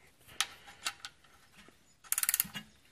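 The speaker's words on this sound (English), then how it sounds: "I've got a ratchet wrench, but you can use a normal wrench." A ratchet wrench tightens the oil drain plug on a 2003–2007 Chevrolet Silverado with a 5.3L V8, giving a few scattered clicks and then a quick run of about six sharp, close ratchet clicks.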